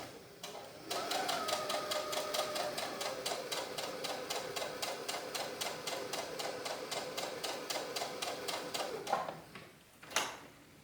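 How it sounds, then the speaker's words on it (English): A domestic sewing machine runs a steady quarter-inch basting stitch on blouse fabric, its needle clattering in a fast even rhythm for several seconds before slowing and stopping, with a couple of faint clicks after. "I'm gonna put in a basting stitch at 1/4 inch so it's easier to fold that under."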